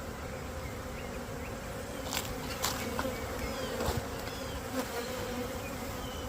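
A swarm of honeybees buzzes steadily close by during hive work, a dense continuous hum with individual bees flying past now and then.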